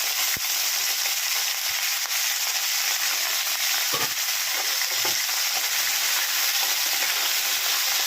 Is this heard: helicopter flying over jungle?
no